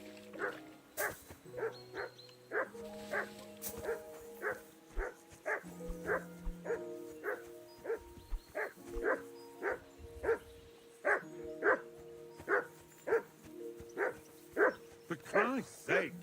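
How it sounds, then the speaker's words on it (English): In Kingdom Come: Deliverance II, a dog barks in a steady series of sharp, evenly spaced woofs, moderately close. Voices talk between and under the barks, and a whimper follows near the end. "Call off that damn dog before he wolfs down the last of our mates"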